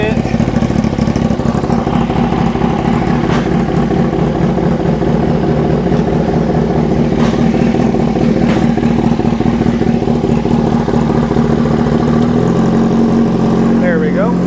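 A Yamaha R6 sport motorcycle idles during throttle body synchronization, a loud, steady, close-up engine drone with an even pulsing rhythm that stays constant throughout, its pitch dropping slightly near the end.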